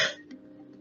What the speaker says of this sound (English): Then remove the mouthpiece from your mouth and have a cough.